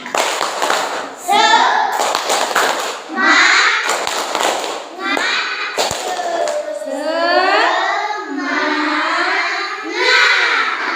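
Classroom of pupils standing to perform the "tepuk semangat" clap chant: quick bursts of loud group clapping alternate with the children's sing-song chanting voices, repeated in close rhythmic patterns.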